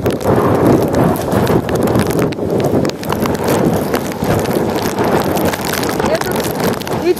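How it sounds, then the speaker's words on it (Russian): Very strong wind gusting during flooding in Temryuk, buffeting the microphone with a loud, continuous roar and rumble that rises and falls slightly but never lets up. "Все ухудшает очень сильный ветер. Очень сильный ветер."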